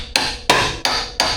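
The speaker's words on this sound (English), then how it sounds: "So then, we can use our hammer." Four sharp hammer blows strike a control arm bushing on a Subaru Impreza Outback front suspension, evenly spaced and loud, with ringing decay between hits and no talking.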